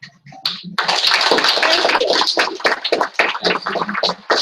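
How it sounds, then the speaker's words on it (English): Audience at a senior fall school session gives a round of applause, a burst of close, crisp hand clapping that starts abruptly after a brief voice and continues steadily for several seconds. "please join me in a round of applause"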